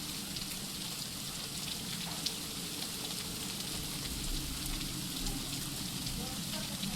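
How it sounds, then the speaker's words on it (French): Steady rain falls across an Egyptian scene in a video game, a dense, even hiss of drops with a low rumble underneath, continuous and fairly soft throughout. "De la pluie en Égypte."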